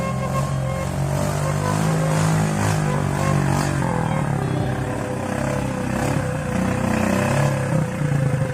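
A motorcycle engine labours at steady revs while carrying another motorcycle on a mountain slope road, a continuous close droning hum with slight pulsing and no talk.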